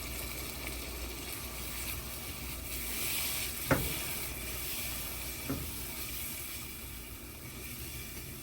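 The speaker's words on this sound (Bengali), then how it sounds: "এখন দিয়েছে সেদ্ধ করে রাখা ফেলন ডাল।" Boiled felon dal (lentils) added to a pan of sautéed jute leaves and stirred, a faint steady sizzle and hiss with two soft clacks of a spoon, no voices.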